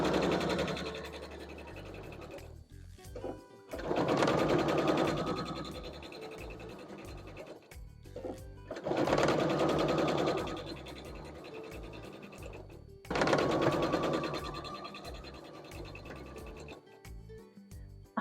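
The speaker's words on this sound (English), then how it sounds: "you're about to see me sew on these top pieces and then these bottom pieces." Sewing machine stitching pieces of a Peony Star barn star quilt block, running in three long bursts of steady whirring separated by short pauses, close and fairly loud with no talking.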